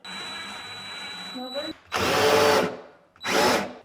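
Power drill driving screws into a range hood cabinet, two loud whirring bursts of roughly half a second to a second each, heard close after a steadier mechanical hum and a few brief knocks.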